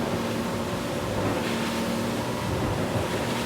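A Sea Ray SDX 250 outboard boat running at 4,300 RPM gives a steady, moderately loud motor drone. Rushing water and wind noise blend into it, with no speech.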